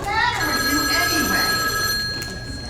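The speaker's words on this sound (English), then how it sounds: "Oh, telephone's ringing." A telephone rings in a stage comedy play, a bright repeated electronic trill running steadily with a voice speaking over it.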